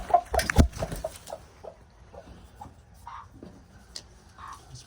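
Backyard hens cluck nearby in soft, irregular short calls, louder at first, then sparser and quieter.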